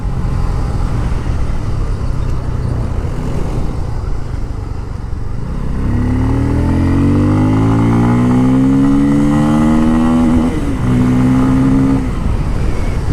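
A Bajaj Pulsar F250 motorcycle accelerates out of a wind-roar background, its engine note climbing smoothly through the revs, loud and close, then briefly dipping at a gear change before rising again.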